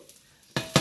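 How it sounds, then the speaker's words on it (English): Brussels sprouts hit a hot frying pan where beef has just been drained, giving two sharp bursts of sizzle after a quiet lead-in, close and fairly loud, with no talk. "sprouts are starting to sizzle."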